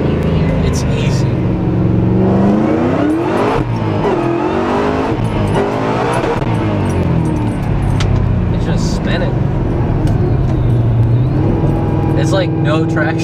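Shelby GT500 with a manual gearbox accelerating hard with wheels spinning, engine rising in rapid sweeping revs over a steady loud drone, with people talking inside the car.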